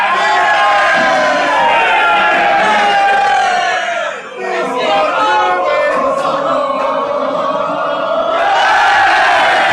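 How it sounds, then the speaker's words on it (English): A big wrestling arena crowd roars and cheers loudly during an honor guard entrance for Rhea Ripley at WWE Crown Jewel 2023, a sustained mass of shouting that dips briefly, then swells again to full volume. "The crowd here at the long arm are popping for each individual man that comes out to form this honor guard for Rhea Ripley"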